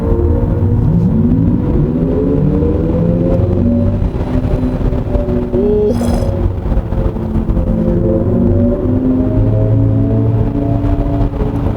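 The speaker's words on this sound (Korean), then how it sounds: "본편에서도 보여드렸지만 액티브 사운드 디자인이 들어가 있습니다." Synthetic active sound design of a facelifted Hyundai Ioniq 5 electric car while accelerating, a loud rising artificial engine-like tone sweeping upward over steady road and cabin rumble, with no talk.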